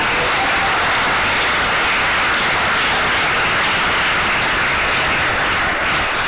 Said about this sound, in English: let's give a round of applause to the coaches, counselors, and the staff